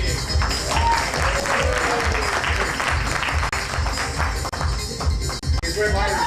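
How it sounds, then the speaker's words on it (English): Audience applause at a stand-up comedy stage show, a steady wash of clapping from the crowd with some voices mixed in, continuous and fairly loud for the whole stretch. "By a round of applause, how many people here would really like to see the real dangerous arts of"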